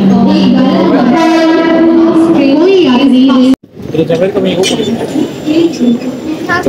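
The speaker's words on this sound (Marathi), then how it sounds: "अंबरनाथ ट्रेन. स्लो ट्रेन है गाइज" A slow local train bound for Ambernath, with a long sustained horn blast followed by the rumble and clatter of the moving train, loud and close, as people talk.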